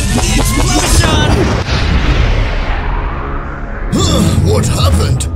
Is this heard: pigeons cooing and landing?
no